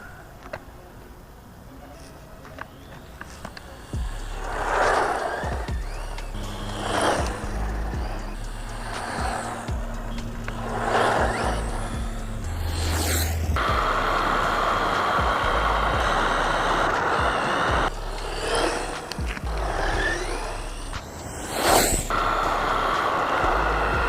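A ZD Racing DTK-16 brushless RC truck runs outdoors, its motor whining and surging in bursts with rising and falling pitch over a steady rumbling background, fairly close and loud throughout.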